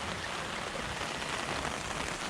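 Rain falls steadily outdoors on the way to a 7-Eleven, a dense, even hiss of drops hitting surfaces with no voices over it.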